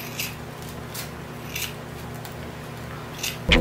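Scissors snipping through hair while cutting bangs at home, a few separate crisp metallic snips spaced about half a second apart, close and fairly loud over a steady low hum.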